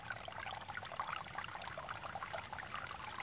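Water trickling steadily from a leak outdoors, a continuous close bubbling dribble with no talk over it.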